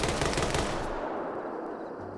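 Point-blank machine gun fire in the video game Arma 3, a loud, dense burst of rapid shots for most of a second that cuts off and leaves a faint ringing tail with a low hum at the end.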